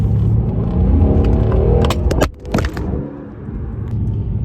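A Mercedes C63 AMG engine roars loudly as it accelerates hard, pitch climbing, then a brief gear-shift dip before the roar resumes.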